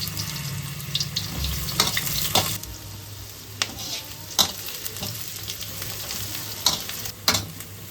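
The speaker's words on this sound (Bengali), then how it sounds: "আমি কুচনো পেঁয়াজটাকে প্রথমে ভেজে নেব।" Chopped onions fry in hot mustard oil in a karahi, a steady close sizzle punctuated by several sharp scraping stirs of a spatula against the pan.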